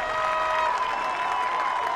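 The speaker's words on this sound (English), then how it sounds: "That's one way to get the crowd fired up." A high school football crowd at Plainfield Central at Pekin applauds and cheers after a long run, a dense, steady wash of clapping and voices filling the stands without a break.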